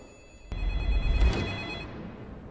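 A telephone rings in a movie scene, one loud electronic ring starting sharply after a moment of quiet and trailing off into room tone, with no talk over it.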